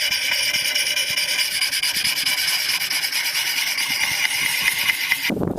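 Axe blade sharpened on the finer grit side of an oil stone, a steady continuous rasping rub of metal on stone throughout, close and fairly loud, ending with a brief scrape.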